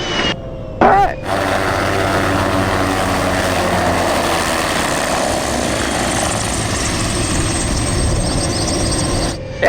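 A helicopter hovering during autorotation training, a loud steady rotor and engine drone heard from inside, broken by brief clicks and a short higher whine at the start, with voices talking now and then.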